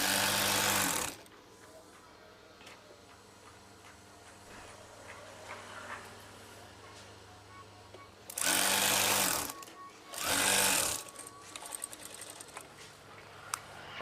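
A sewing machine stitches folded fabric for a craft curtain, running in three loud bursts of rapid whirring, one at the start and two near the end, with quieter room noise in between.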